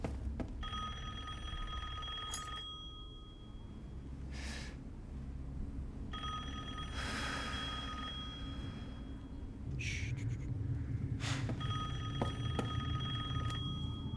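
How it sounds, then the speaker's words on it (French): An old-style telephone bell rings in the Resident Evil Village video game, several repeated bursts of bright ringing separated by short pauses, fairly distant and moderately loud over a quiet room tone. "Faut répondre au téléphone, madame."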